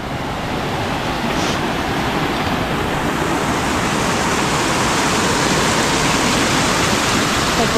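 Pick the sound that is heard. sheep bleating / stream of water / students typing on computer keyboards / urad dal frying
stream of water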